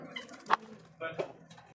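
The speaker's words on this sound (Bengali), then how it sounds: "সর্বপ্রথম শুরু করলাম একজোড়া রেসার কবুতর" A pair of racer pigeons coo softly, with two or three low throaty calls over a quiet background of faint voices nearby.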